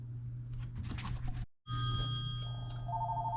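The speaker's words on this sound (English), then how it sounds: "And here we have a call coming in." An Anker PowerConf Bluetooth speakerphone rings with an incoming call: steady, bright electronic ring tones sound close and clear, broken by a brief silent gap midway, with no talking.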